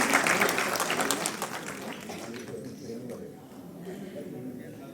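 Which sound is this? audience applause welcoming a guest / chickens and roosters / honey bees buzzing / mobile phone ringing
audience applause welcoming a guest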